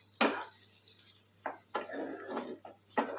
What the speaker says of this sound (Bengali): ভালো করে কষিয়ে নেব 5 মিনিট মতো